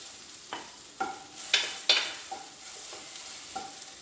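Okra masala frying in a pan over a low flame with garam masala, sizzling softly while a spoon scrapes and stirs in several distinct strokes, fairly quiet and close, with no talking.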